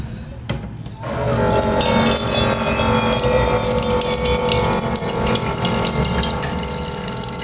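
Water from a dispenser pouring in a strong, continuous gushing stream after a brief click, loud and close, running steadily to the end with no talk.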